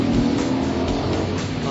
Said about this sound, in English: they've chucked a 6-litre V8 in this thing. There's no lag.